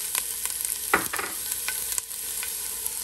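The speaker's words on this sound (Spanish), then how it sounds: "cuando nuestro aceite esté caliente, lo que vamos a hacer es que vamos a agregar la cebolla que tenemos aquí picada" Chopped onion fries in hot oil in a pan, a continuous close sizzle with a brief burst of scraping and stirring near the start and light utensil taps after, with no talk.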